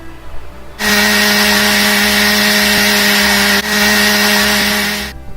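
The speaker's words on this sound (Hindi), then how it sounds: "अब इसमें डालेंगे कुछ आइस क्यूब्स और इस मिक्सचर को हम अच्छी तरह ग्राइंड कर लेंगे।" An electric blender grinds a milkshake of figs, dates, honey and ice cubes, starting at once and running loud and steady for about four seconds, with a brief hitch partway through before it winds down.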